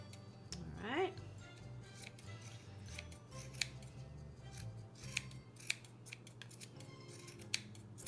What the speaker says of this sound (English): now we're really gonna trim down the pom-pom so that you have a plump pom-pom like this